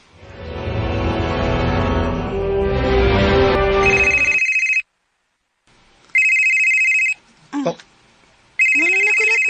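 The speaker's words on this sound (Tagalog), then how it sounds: "Kusog mo kayo ang pag-ring." A mobile phone rings loudly in short repeated electronic bursts, each separated by brief gaps of silence, with an earlier stretch of background music and voices before the ringing starts.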